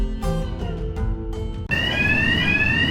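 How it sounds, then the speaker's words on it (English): An alarm goes off inside a building in an animated series, a loud sustained electronic tone with rising pitch that suddenly cuts in after a stretch of music and carries on steadily to the end. "I heard that Stefano has installed alarms in the building, and we would be attacked if we try to break in"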